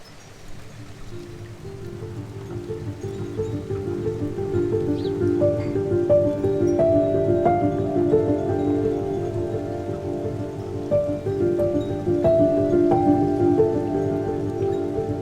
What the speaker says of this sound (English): We've got some rain coming down, and lots of it.